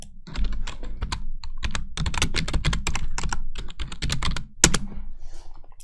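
Fingers typing a command on a computer keyboard, a close, brisk run of crisp key clicks in uneven bursts with short pauses and one heavier thump near the end.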